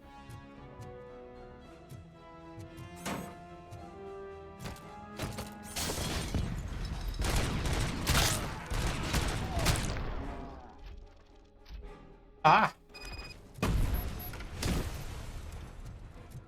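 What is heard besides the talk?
gunfire and explosion in the video game RoboCop: Rogue City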